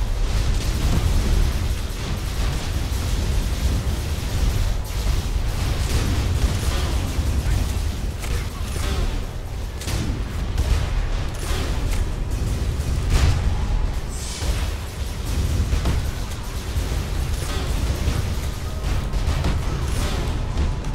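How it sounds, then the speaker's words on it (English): Grenade blasts in the sci-fi shooter Tribes Ascend, a continuous dense roar of explosions and booming bursts that runs loud and unbroken from start to finish, with no voice over it. "one of those grenades just hit me"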